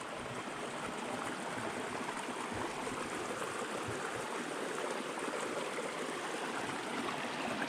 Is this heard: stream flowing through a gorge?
yes